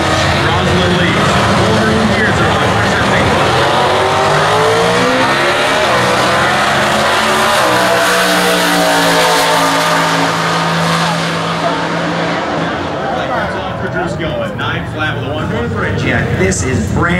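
Drag race cars at the 60th annual US Nationals stock eliminations, including a 1989 Ford Mustang with a 302 V8, roar loudly and steadily, engines revving and sweeping in pitch, with an announcer talking over them throughout.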